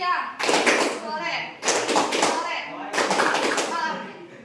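A classroom of children claps in a call-and-response game, three dense bursts of group clapping separated by brief stretches of young voices.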